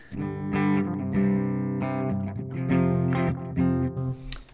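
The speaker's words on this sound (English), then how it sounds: "We'll take the spring reverb here" An electric guitar plays distorted chords through an effects pedal chain with a spring reverb pedal engaged, sustained strummed notes ringing with a washy tail, close and loud.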